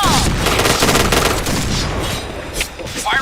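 Rapid bursts of video game gunfire crackle loudly and almost without pause, mixing with explosions and in-game chatter during a firefight that ends in a headshot.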